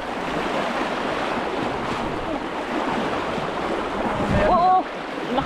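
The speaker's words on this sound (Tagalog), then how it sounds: "Ang lakas ng agos." A strong river current rushes steadily and loudly, a dense broadband roar filling the whole stretch, with a brief voice-like sound near the end.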